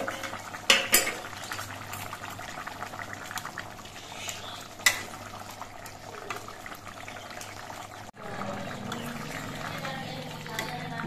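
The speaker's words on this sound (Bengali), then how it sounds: "মাছটা দিয়েও আরো 2-3 মিনিটের মতো ফুটিয়ে নিতে হবে।" Fried fish simmering in a bubbling curry, a soft steady boil underneath with a few sharp clinks of utensils against the pot and a brief pause before the bubbling resumes.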